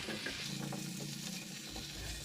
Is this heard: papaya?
yes